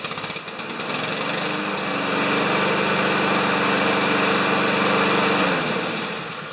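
Lawn Boy lawn mower engine with automatic choke, freshly tuned up, catching and running at a loud steady high-pitched roar that swells slightly then eases near the end, close by with no voices.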